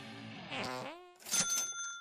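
A cartoon fart sound effect: a short, rubbery tone that bends downward, then a second brighter, buzzy burst, quiet and isolated.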